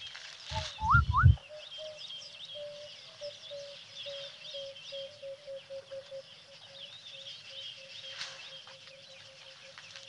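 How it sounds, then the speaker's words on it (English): White-browed scrub robin and bushshrike calling in a morning bush chorus: a steady stream of repeated whistled and chattering notes, a few brief louder calls near the start, continuing at moderate volume throughout with no talk. "White-browed scrub robin also ever present call."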